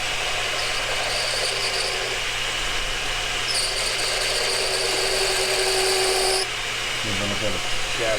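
A machine tool cuts metal for a 1937 Studebaker President in a machine shop, a loud, steady grinding rasp with a high chattering whine that rises midway, then eases with a few knocks at the end.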